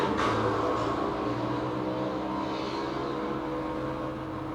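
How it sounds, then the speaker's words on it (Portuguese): A motorcycle engine drones steadily as it goes by nearby, loud at first and then slowly fading. "Um avião não, né? Uma moto."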